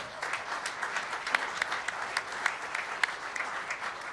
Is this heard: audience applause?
yes